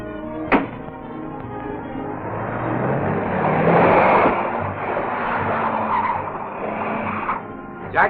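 Tires skid and squeal as a car pulls away in a 1937 detective serial, a loud rising engine surge with sharp screeches near the start and end, no talk over it.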